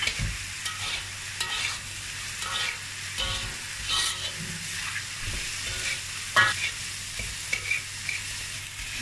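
Fried rice with dried tofu is stir-fried in a pan, giving a continuous sizzle and frying hiss broken by repeated scraping and tossing strokes of the spatula, close and fairly loud with no talking.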